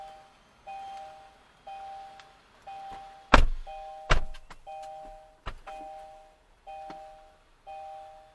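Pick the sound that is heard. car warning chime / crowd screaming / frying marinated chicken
car warning chime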